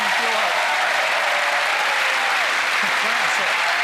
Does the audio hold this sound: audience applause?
yes